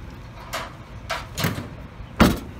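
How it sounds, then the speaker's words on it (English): Rear door of a 2018 Ford Transit 250 high roof van shutting on a windy day, a few soft knocks and a final louder thud, close and alone with no talk. "Close that rear door,"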